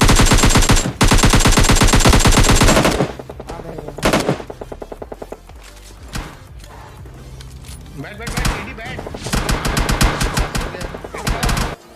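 Intense gunfire erupts from all sides in the PUBG Lite game: rapid automatic bursts and single shots, very loud at first, then scattered volleys that build again toward the end, with a voice talking underneath.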